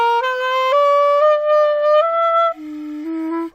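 A clarinet plays a scale upward from C with a loosened grip on the mouthpiece, clear solo notes stepping along before dropping to a low tone and fading out.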